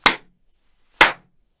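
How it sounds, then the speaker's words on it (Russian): Two sharp, dry hand claps about one second apart, close and crisp, each decaying quickly into silence. "Слышите? Хлопок, да?"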